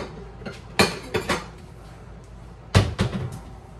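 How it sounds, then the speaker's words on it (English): Ceramic bowls set back into a kitchen cupboard: a couple of close knocks and clinks, then a cupboard door thumps shut, with a faint rattle of dishes after, no talking. "I can put these bowls up because I didn't use them."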